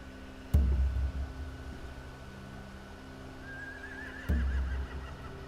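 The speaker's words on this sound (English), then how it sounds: "Scare the horses too." Two short horse whinnies in The Walking Dead Season 4 game, one near the start and one near the end, over a quiet hum of background ambience.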